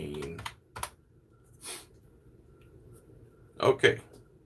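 A few short bursts of clicking on a computer keyboard, close and fairly quiet, separated by pauses in a hushed room.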